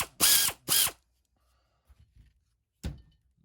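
A Snap-on or Maco 1/4 inch air ratchet fires two short, loud buzzing bursts close up, followed by quiet mechanical clicks and a single thunk.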